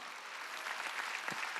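Congregation clapping during a Korean Wednesday worship service at a church, a steady wash of many hands applauding together, moderately loud and continuous, with a faint voice underneath.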